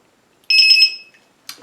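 The low-battery buzzer of an Eachine EC250 3S racing drone gives one short, loud, shrill pulsing beep, followed by a brief clatter of handling noise.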